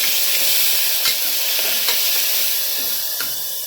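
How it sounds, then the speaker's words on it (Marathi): Onion, crushed garlic, curry leaves and tomato fry for a chicken gravy, giving a loud, close, continuous sizzle broken by occasional spoon knocks as the pan is stirred. "त्याच्यात मी कांदा लसूण चेचून टाकला आहे कढीपत्ता टाकला ते आपण सर्व लाल होईपर्यंत भाजायचं आहे"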